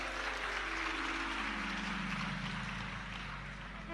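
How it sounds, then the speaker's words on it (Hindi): An audience claps steadily and densely throughout, a continuous wash of many hands at a religious discourse gathering, with no voice on top. "ये ताली बजाने से कुछ नहीं होगा।"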